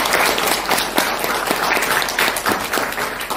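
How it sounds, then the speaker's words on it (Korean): Audience applause at a political forum launch event in a hall, a steady wash of many hands clapping with no voices on top, even and sustained throughout. "힘찬 박수 부탁드리겠습니다."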